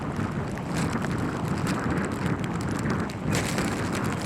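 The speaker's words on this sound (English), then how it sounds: "the wind just absolutely blasting right now" Strong wind blasts across a microphone outdoors at a disc golf round, a continuous loud rumbling buffet that surges and dips, easing briefly before gusting back hard. No one speaks.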